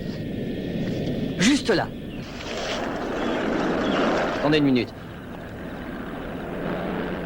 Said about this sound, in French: Je reconnais ce moteur-là